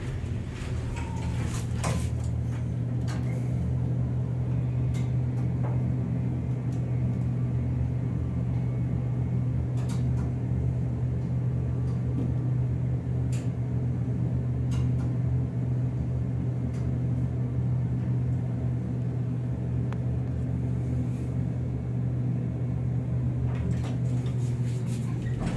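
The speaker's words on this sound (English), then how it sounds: "We're gonna ride this Dover elevator." A 1964 Dover hydraulic elevator at a Holiday Inn in Saratoga Springs, New York, rides with a steady low motor hum and rumble throughout, punctuated by a few faint clicks and knocks.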